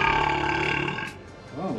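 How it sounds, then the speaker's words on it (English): Long, deep, multi-layered human burp that rumbles loudly and fades out, then a voice begins speaking. "It was like a triple-layer burp"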